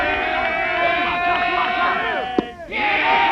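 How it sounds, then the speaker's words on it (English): A crowd at a 1993 Overbrook vs Edgewood baseball game yells and cheers loudly, with overlapping shouts building, dipping briefly near the end, then surging again. "Crowd's getting loud."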